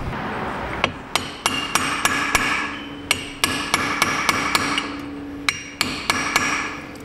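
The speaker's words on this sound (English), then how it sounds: "Let me get a flat punch, see if I can't just flatten that down on that nut." A hammer drives a flat punch down onto a nut on a Yamaha Big Bear 400 ATV, a series of sharp metallic strikes in uneven clusters of two to four, close and loud, with no talking.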